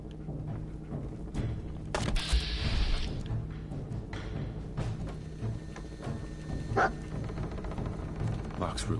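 A dog in Fallout 4 barks and yips a few times at moderate distance amid game ambience and footsteps, with someone talking intermittently.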